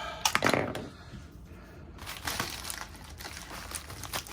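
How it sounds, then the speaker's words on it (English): Crinkling and crackling of plastic eBay mailer packaging being cut open with a knife, close and fairly quiet, with irregular tearing and rustling bursts and no talking. "let's cut open a couple packages"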